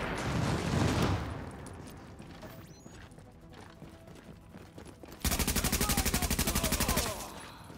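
Rifle fire from an AUG in The Division, with scattered shots and impacts early on, then a loud, rapid automatic burst of roughly twenty evenly spaced rounds lasting about two seconds near the end.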